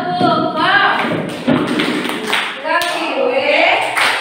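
Group of teachers clapping along in a rhythmic chant during a school workshop session, steady patterned claps mixed with chanting voices throughout.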